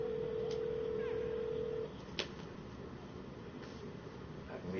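A telephone gives a steady tone for almost two seconds, then a few short, faint beeps follow over a muffled background with a low murmur of voices.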